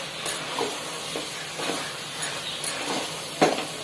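Mushroom biryani mixture frying in a pot while a spoon stirs it, soft sizzling beneath a series of scraping stirs and light metal taps, with one sharper knock near the end.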